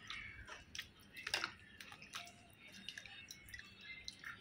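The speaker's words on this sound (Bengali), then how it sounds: "মাখনগুলো এইভাবে জল থেকে ধুয়ে গোল গোল করে উঠিয়ে নিচ্ছি একটা পাত্রে।" Softened homemade butter washed by hand in cold water, giving quiet, irregular wet squishes and drips close up, with no voices.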